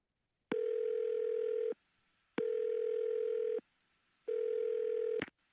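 A telephone ringback tone heard on a call before an answering machine picks up: three long, steady electronic beeps of about a second each, separated by short silences, ending in a sharp click.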